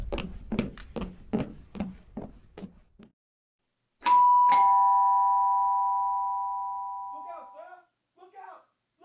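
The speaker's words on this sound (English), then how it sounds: "Ring the doorbell. I'll hear it. Ring it loud." A voice speaks briefly, then a single loud ding-dong chime rings out and slowly fades, followed by faint talk.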